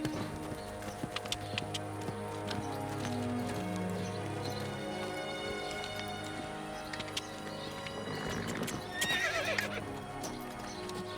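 Horses whinny and snort while hooves clop steadily nearby, with a louder burst of neighing toward the end.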